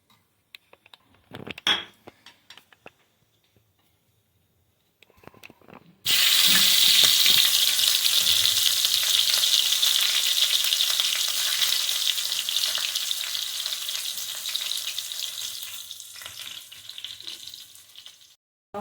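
A few brief clicks and knocks, then a sudden loud hiss as a green chili drops into hot oil with crushed garlic, sizzling steadily and slowly fading.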